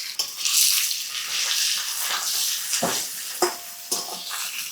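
Potatoes and chopped onion frying in oil in a pan, a bright continuous sizzle broken by stirring scrapes and a few clinks of utensil against the pan, with no voices.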